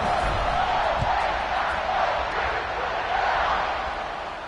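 A packed stadium crowd at an Ohio State Buckeyes versus Ohio Bobcats football game roars steadily before kickoff, a dense sustained wall of cheering with no single voices standing out.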